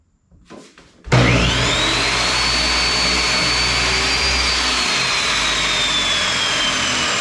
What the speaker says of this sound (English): we can go ahead and make a nice straight cut with the miter saw